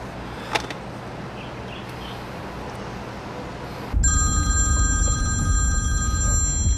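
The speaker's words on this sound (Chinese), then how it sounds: "我终于等到你电话" A telephone starts ringing after about four seconds of quiet room tone, a bright, steady electronic ring that continues loudly to the end.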